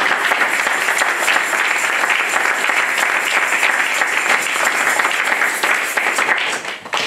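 A church congregation applauds and cheers for Jesus during a French sermon, sustained dense clapping from a large crowd that holds steady and loud throughout, fading slightly at the very end.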